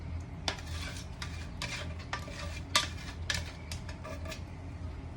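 Flour and yeast being mixed by hand for charcoal bread, a soft repeated stirring and scraping against a bowl with occasional sharper clinks, close and steady with no talking.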